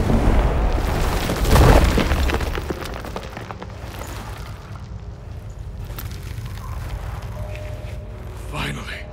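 Stalagmites in The Witcher 3 break apart with a loud, rumbling boom and crumbling debris, then a long, dense roar of rubble and ambient noise follows, with a brief sharp crack near the end.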